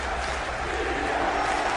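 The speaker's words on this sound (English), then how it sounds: "Defense chant." A Patriots football stadium crowd roars in a dense, sustained wash of noise, loud and continuous, with no distinct chant rhythm standing out.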